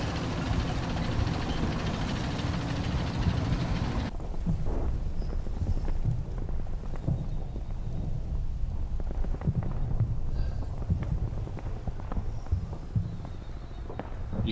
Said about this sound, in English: the barrage has now begun to land